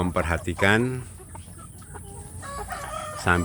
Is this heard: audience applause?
no